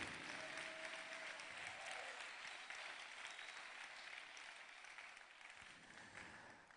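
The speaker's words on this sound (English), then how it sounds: "Can we give Ruth another round of applause?" An audience gives another round of applause for a peer mentor, a full wash of clapping that starts strong and slowly thins as it goes on, heard faintly and at a distance.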